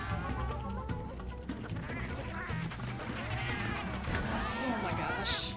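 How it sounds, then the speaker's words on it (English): A giant chicken-like monster in Monster Hunter Wilds lets out loud, continuous honking, quacking squawks over a dense game soundscape, with voices chattering underneath. "That's a giant chicken."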